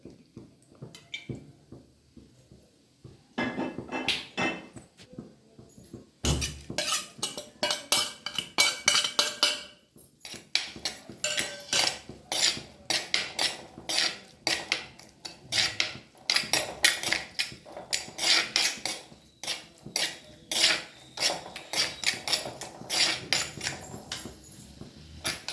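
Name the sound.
sautéing crushed onion, garlic and cumin in coconut oil in a pan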